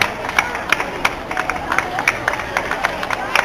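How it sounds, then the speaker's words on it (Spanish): An outdoor crowd at a cross-country race awards ceremony claps steadily, a loose patter of many hands at moderate distance, with background crowd chatter mixed in. "A ver ese aplauso, a ver si se oye a los veteranos B."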